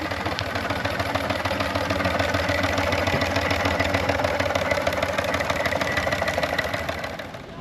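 A 4-inch scale model steam traction engine runs nearby at a steam festival, giving a steady, continuous mechanical chuffing and rumbling at constant loudness throughout, with a faint background hum.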